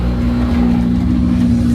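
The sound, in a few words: Toyota Supra car engine revving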